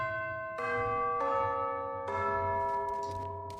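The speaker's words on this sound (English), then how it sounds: "where you got these bells that make different noises" Bells in an escape room video game play a little song: four clear, ringing chime notes struck one after another at different pitches, each sustaining and overlapping as the next begins.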